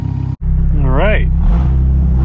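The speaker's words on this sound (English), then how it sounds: "Got a little exhaust leak. We'll have to take care of that. I can hear it." A tuned Toyota MR2 engine idles and revs with an exhaust leak, a loud, close, pulsing drone that briefly cuts out, then rises in a quick rev with a wavering pitch before settling back to idle.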